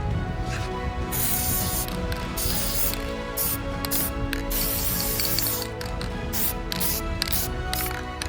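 Clear acrylic coating hisses from a spray can onto custom-painted Vans shoes in a series of short, close bursts separated by brief pauses.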